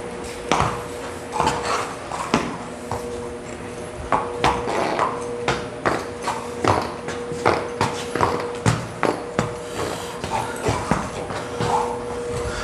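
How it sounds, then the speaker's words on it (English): A horse walks, dragging its toes, its hooves giving an uneven clip-clop with scraping shuffles between steps, fairly close and moderately quiet, with no talking. "Hear him dragging his toes when he walks."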